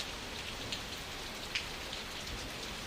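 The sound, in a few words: rain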